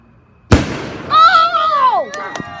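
Backyard fireworks go off with one sharp, close bang that decays quickly, followed by loud excited shouting and voices.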